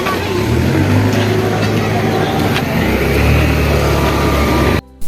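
A motorbike engine running close by, a steady loud drone with a slight rev, cutting off abruptly near the end; a voice is faintly present.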